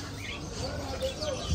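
Parrots and other caged birds at a bird market in Doha give faint, scattered chirps and tweets under people talking nearby in a busy market.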